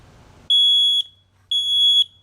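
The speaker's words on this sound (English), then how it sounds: "The alarm goes off and we silence it." A combination smoke and carbon monoxide alarm sounds two loud, shrill high-pitched beeps, each about half a second long, separated by a short silence.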